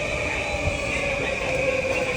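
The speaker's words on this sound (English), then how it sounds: "So we are taking our first metro ride in Tokyo." A Tokyo metro train in motion, giving a steady droning rumble with a sustained whine and faint wheel noise, continuous and fairly close, with no talking.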